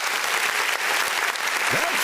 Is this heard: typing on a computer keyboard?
no